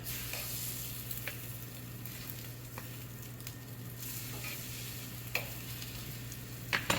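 Steady crackling sizzle of parmesan-crusted chicken frying in a hot pan, with occasional sharper pops over a low hum, no talking.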